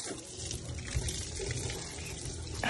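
Water sprays steadily from a nozzle in a continuous close rushing hiss, with no talking over it.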